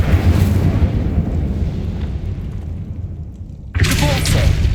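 An Incendio fire spell cast in the Hogwarts Legacy video game, a loud rumbling whoosh that fades, then a sudden bright burst of fire and crackle.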